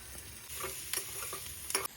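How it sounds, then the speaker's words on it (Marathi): Okra stir-fried in a pan with onion, garlic, mustard seeds, cumin, asafoetida, turmeric and green chilli sizzles steadily, with a few scraping stirs of a spatula close by. "दोन तीन मिनिट झाली आपण भाजी ढवळत आहे"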